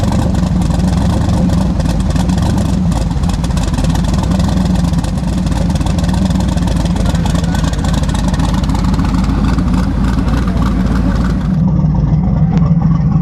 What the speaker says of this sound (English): this Nissan 240 SX has a 6-liter LS motor and twin turbos